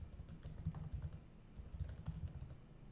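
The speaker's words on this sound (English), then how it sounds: "I'm blaming that for my typing." Quick, uneven clicking of keys on a computer keyboard while entering MySQL commands, close and fairly quiet, in bursts with no talking.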